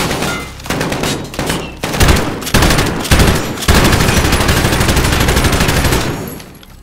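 Gunfire in Call of Duty: Modern Warfare (2019), a tense close-quarters exchange of sharp shots building into sustained rapid automatic bursts, loud and near, then tailing off at the end.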